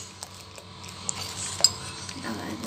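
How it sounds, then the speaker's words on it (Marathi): A utensil stirring and scraping milk in a pan as it slowly thickens into a base for sweets, faint soft scrapes with a few light metallic clinks against the pan, quiet and close. "हलवत आहे बघा"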